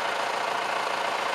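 Riding lawn mower engine idling on gas vapor, a steady, even rumble at close range with no variation and no talk.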